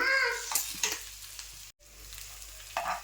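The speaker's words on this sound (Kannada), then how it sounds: "ನಾನು ಎಲ್ಲವನ್ನು ಒಟ್ಟಿಗೆ ಮಿಕ್ಸ್ ಮಾಡ್ತಾ ಇದ್ದೇನೆ" Egg and potato mixture sizzling and frying in a pan as it is stirred, with soft scraping strokes over a steady crackle, close and fairly quiet.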